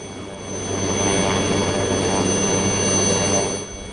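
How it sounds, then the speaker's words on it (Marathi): Army helicopters over the Siachen glacier produce a loud, steady rotor and engine roar that swells in, holds evenly for several seconds, then eases off, with no voices. "सूर्याच्या पहिल्या किरणापासून इथं हेलिकॉप्टर्सच्या गिरट्या सुरू होतात"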